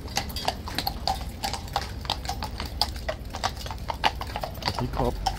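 Crisp, rapid clip-clop of a mare's hooves on hard ground as she walks into the box at a racecourse, an irregular close patter of strikes throughout with faint voices in the background.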